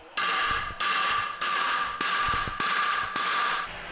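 A mallet strikes repeatedly in a leather workshop: six or seven loud, sharp close-up blows at a steady rhythm of roughly one every half second, each with a bright ringing tail and no talk.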